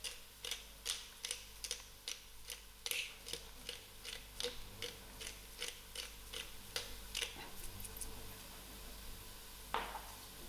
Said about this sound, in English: To my garlic, I'm going to give a generous grind of black pepper.